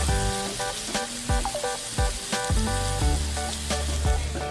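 Pork belly marinated in Korean sauce sizzles and spits steadily in a hot pan, a loud continuous frying hiss with clinks and scrapes of turning under background music.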